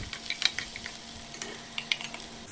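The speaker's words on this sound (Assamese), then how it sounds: "সেই আলুখিনিয়ে মই এতিয়া পিঁয়াজ দি দিলোঁ তেজপাত পিঁয়াজ আৰু আপোনাৰ জলকীয়া ভাজি ল'লোঁ অলপ" Onions with bay leaf and green chili frying in a pan for aloo curry, giving a soft, steady sizzle with a few light scraping stirs, quiet and close, no talking.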